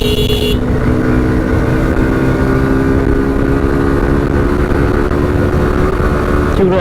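A carbureted Suzuki Gixxer motorcycle accelerates in third gear along a road. The engine drones loud and close as a steady, strongly pitched roar that holds throughout the clip, with no talking.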